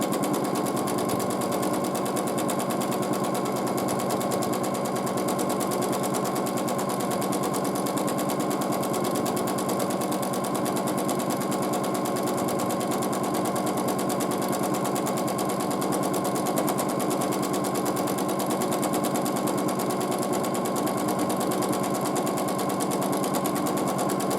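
A sewing machine runs continuously for free motion quilting, a fast rapid-fire mechanical rattle at a steady even pace, loud and close throughout with no talking.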